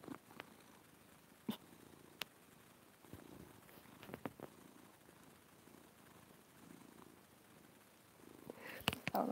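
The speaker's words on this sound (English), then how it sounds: "Purr for me, baby." A cat purrs softly and close in a quiet room, a faint steady rumble broken by scattered clicks and rustles, with louder handling noise near the end.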